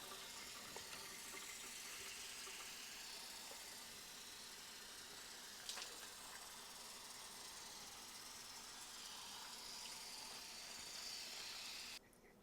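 Water poured steadily onto a freshly repotted fiddle leaf fig in well-draining soil, a continuous close splashing wash that runs evenly before a short pause near the end.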